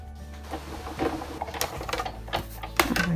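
A die-cutting machine runs a paper birthday card through, giving a close, rattling mechanical whir with crackling clicks and small snaps for about three seconds.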